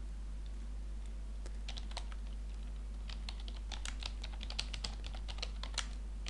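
Typing on a computer keyboard, close and fairly quiet, with irregular bursts of sharp key clicks over a steady low hum, no talking.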